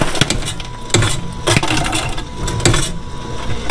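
A theater-style popcorn popper running steadily with a motor hum, making bacon cheese popcorn, with scattered loud pops and clattering as kernels slow and the batch is dumped out.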